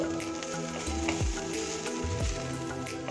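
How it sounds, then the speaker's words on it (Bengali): Softened banana stem (thor) fries in a pan with no water, sizzling steadily and up close while a utensil stirs it, with a couple of clear scraping strokes. "থোরটা আরও নরম হয়ে গেছে, একটু নাড়াচাড়া করে নিচ্ছি"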